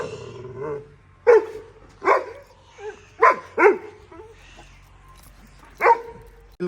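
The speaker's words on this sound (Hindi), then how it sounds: "डायमंड का खड़े होने का स्टाइल देखें, कितना बारोब बुल्ली कुत्ता है दोस्तों।" An American bully dog meets a puppy for the first time, giving several short barks and yips at irregular intervals with faint whimpers between, close and fairly loud.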